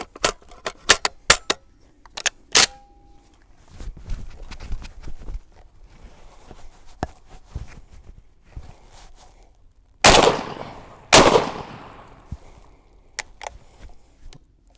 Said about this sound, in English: So let's run some buckshot through here and see.